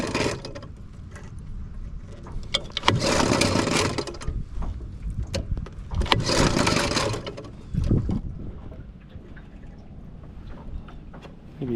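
Repeated pull-start attempts on the outboard motor of a 14ft boat: two bursts of cranking and sputtering, each about two seconds long, rise out of a quieter background, then a brief third sputter follows.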